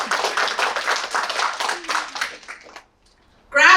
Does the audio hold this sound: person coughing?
no